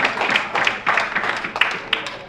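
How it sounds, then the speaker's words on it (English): Audience applause at a matinee concert: a dense wash of clapping fills the room, fairly close and steady, with a few sharper individual claps standing out. "I hope we get some applause for that."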